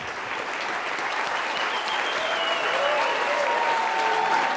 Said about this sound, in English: He wins the applause meter.